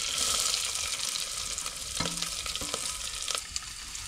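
Onion fries hard in a hot pan with ginger, curry leaves and chili, giving a loud, steady sizzle. A few spoon scrapes and clinks of stirring break through it. No one talks.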